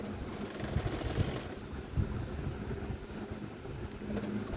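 A sewing machine runs steadily while stitching a cotton frock with a half-inch seam margin, giving a continuous close mechanical hum with a slight rhythmic pulse and no voices.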